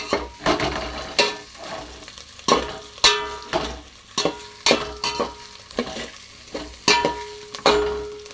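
Curry leaves dropped into a hot pan with oil, crackling and spluttering in repeated loud bursts between stirring scrapes, with no talk over it.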